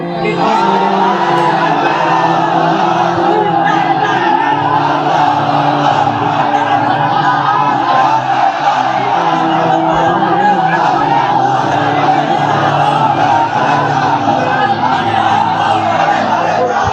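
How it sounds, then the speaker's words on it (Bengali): Large crowd at an Islamic sermon gathering loudly shouting takbir: a sustained, dense roar of many voices, with no clear pauses. "তাকবীর দেন তো একজন আওয়াজ করে।"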